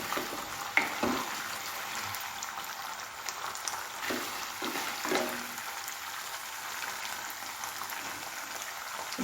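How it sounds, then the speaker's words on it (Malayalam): Mustard seeds spluttering in hot oil while making green chilli pickle, a steady close frying hiss broken by several sharp pops and crackles, with no talking. "1/2 ടീസ്പൂൺ കടുകിട്ട് കൊടുക്കുക. കടുക് പൊട്ടി വന്നപ്പം 1 ടീസ്പൂൺ ഉലുവായും കൂടി ഇടുക"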